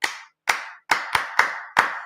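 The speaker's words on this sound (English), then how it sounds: "I want to clap for you." A single person claps six times, sharp close slaps with short decaying tails, spaced irregularly with a quicker pair in the middle.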